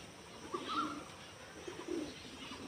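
Black pigeons cooing softly in a loft, two low murmuring coos a second or so apart over a steady faint background hiss.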